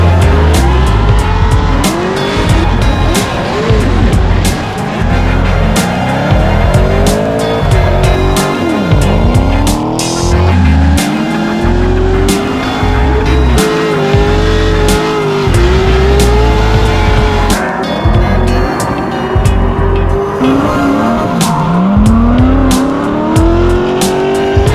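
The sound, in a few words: cars tandem drifting with tire squeal at LS Fest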